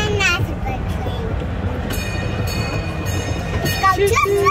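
Small coin-operated mall ride train rumbling along steadily, with wheel and motor clatter, a whistle-like tone and a voice over the continuous close running noise.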